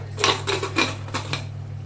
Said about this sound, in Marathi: आता हे झाकण लावते याला